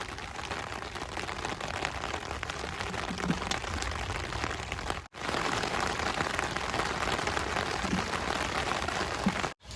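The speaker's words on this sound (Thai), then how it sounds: "ฝนมันตก" Steady rain pours down outdoors during a flood-season catfish netting trip, a dense, even hiss that is loud and continuous, broken only by two momentary cutouts.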